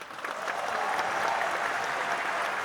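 Audience applause at a Jashn-e-Rekhta session with Anurag Kashyap and Sudhir Mishra, a fairly quiet but continuous patter of many hands clapping that holds at an even level throughout.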